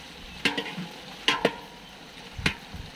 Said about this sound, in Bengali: চিংড়ি মাছটা ভেজে রাখা হয়েছিল সেটারে মশলা দিয়ে নারকেলের দুধ দিয়ে এটা রান্না হচ্ছে